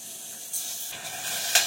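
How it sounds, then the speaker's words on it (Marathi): Garlic dal hitting hot tempering oil in a home kitchen, giving a steady close hiss with a couple of brief louder sizzle bursts, no talk. "लसूणची डाळ करताना की नाही फोडणीमध्ये डाळ टाकायची"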